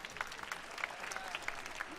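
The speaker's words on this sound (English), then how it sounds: "Let's give him a round of applause." Faint, distant applause from a crowd, a steady patter of clapping with no voices over it.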